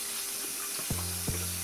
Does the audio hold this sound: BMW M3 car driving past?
no